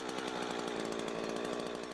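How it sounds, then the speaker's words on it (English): Chainsaw sawing through a tree trunk during felling, a loud continuous rasping engine buzz with a fast pulsing cut, close and steady for the whole stretch, no voices. "Make sure you don't touch the breaking bar with the chain when you continue sawing."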